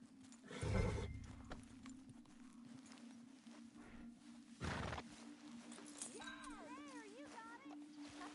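A horse in the Red Dead Redemption 2 video game snorts and whinnies, with a few hoof clops and a low hum behind. Someone speaks calmly over it and a brief melodic chirp is heard later.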